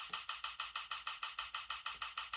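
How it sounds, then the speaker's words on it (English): A camera shutter sample repeats on every 16th note, a crisp mechanical click-whir sounding fourteen or so times in an even, rapid machine-like rhythm, close and alone. "Assign one of the camera samples to all 16th notes."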